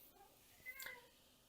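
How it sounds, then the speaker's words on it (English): A single faint, distant cat meow, brief and rising, sounds alone in an otherwise quiet room. "If you hear distant meowing"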